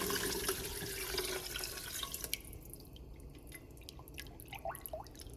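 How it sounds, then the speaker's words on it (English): Chicken stock pours into a measuring cup in a short, quiet stream that tapers into dripping and small splashes, heard close up and with no talking. "So I'm going to pour this in, we're going to make 2 more cups"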